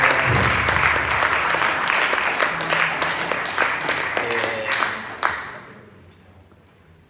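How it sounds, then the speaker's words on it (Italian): Audience applause at an exhibition catalogue presentation about Cabruna: a room of dense clapping that holds steady, then thins out and fades toward the end, with faint voices mixed in. "al quale farei un applauso"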